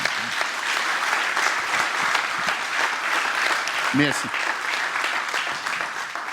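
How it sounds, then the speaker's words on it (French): Steady audience applause at a Mozart concert featuring the final of a performance competition, a dense wash of clapping throughout, with a brief spoken word from the stage partway through. "Allez, applaudissements."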